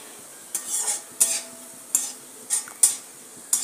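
Dagdi poha (thick flattened rice) is stirred while frying in oil in a kadhai. Six distinct scraping strokes ring out close by over a faint background sizzle, with no voices.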